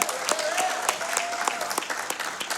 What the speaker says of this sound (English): Can we more like a quick round of applause for Dan right there?